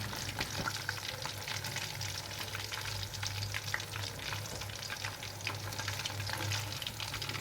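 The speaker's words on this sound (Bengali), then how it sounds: "তখন আপনি চুলার আঁচ মিডিয়াম টু লো ফ্লেমে রেখে হালকা ভেজে নিতে পারেন" Chicken toothpick kebabs fry gently over a medium-low flame, a soft, even crackling sizzle that runs steadily throughout at a low level, with no talking.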